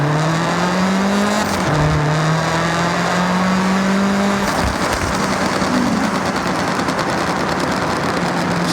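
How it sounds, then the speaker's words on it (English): A rally-style car in the Forza Horizon 6 racing game holds a loud, sustained engine drone with rising and falling revs and crackling exhaust pops, close and continuous with no talk. "it's like a completely different engine, man. It's like a full-on rally car"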